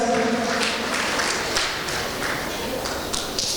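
A church congregation at a Sunday celebration service applauds. The clapping comes in a short, loud wash with some distinct sharper claps and brief voices mixed in.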